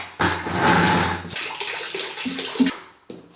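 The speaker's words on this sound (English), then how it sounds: "That is no way to fill up a bucket." Water from a hose gushing and splashing into a bucket, loud at first and then tapering into uneven sloshing and dribbling, close by with no talk.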